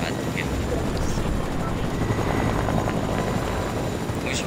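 Helicopter in a battle royale video game, a steady loud rotor and engine drone filling the whole stretch without break.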